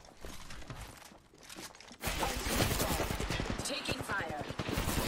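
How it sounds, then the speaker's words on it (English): Heavy gunfire in a shooter video game, a dense sustained rattle of rapid shots that erupts after a quieter opening, with teammates talking underneath. "Taking fire."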